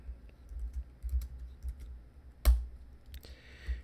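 Keys clatter on a computer keyboard during a coding session, soft and irregular with a few sharper clicks and one louder keystroke partway through, heard alone over a low hum.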